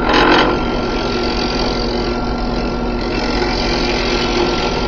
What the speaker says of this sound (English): We'll take care of that with the roughing gouge.